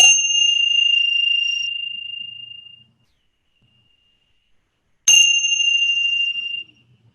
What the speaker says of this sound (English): just follow the sound of the bells for a moment.